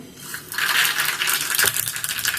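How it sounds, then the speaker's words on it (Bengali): Dried chilli, a pinch of hing and red mustard seeds hit hot mustard oil, setting off a loud, crackling sizzle with rapid spitting pops that lasts the whole time. "তেলটা গরম হয়ে গেলে দিয়ে দিচ্ছি শুকনো লঙ্কা, আবার 1 চিমটে হিং, লাল সর্ষে"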